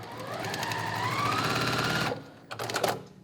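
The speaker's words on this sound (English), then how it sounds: "I'm just going to sew," A sewing machine pieces quilt block fabric for a Halloween witchy ghost quilt, running in a steady close whir for about two seconds before stopping, followed by brief handling noises.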